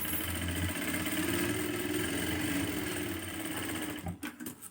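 A sewing machine hums and whirs continuously up close while stitching piping onto a blouse, then stops with a few soft handling clicks at the end.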